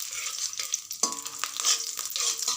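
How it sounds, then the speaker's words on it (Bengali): Nigella seeds and chopped green chillies hit hot oil for tempering, giving a bright, crackling sizzle with sharp spits and pops, heard close and alone. "কালো জিরে আর কয়েকটা কাঁচা লঙ্কা কুচিয়ে এর মধ্যে ফোড়ন হিসেবে দিয়ে দিলাম।"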